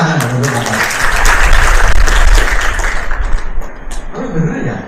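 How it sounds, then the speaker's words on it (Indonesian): An audience at a collaborative research workshop for students, lecturers and teachers breaks into clapping, a dense sustained round of applause that builds, then fades, with a voice speaking briefly near the start and end. "Tepuk tangan untuk Bapak."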